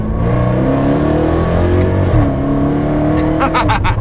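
A Jaguar F-Type SVR engine revs loudly and close in sport mode, pitch rising and dropping, with a few sharp crackles from the exhaust near the end.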